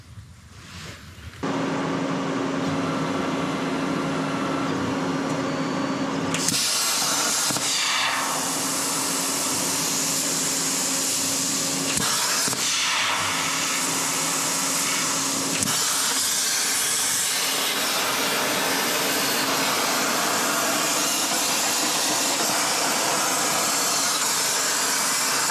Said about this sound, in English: I'll get the plasma cutter on